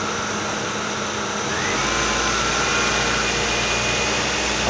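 Engine of a 2007 Ford Focus S rising in pitch as it is given more gas, a steady loud drone that climbs partway through and holds at the higher speed, with no talk.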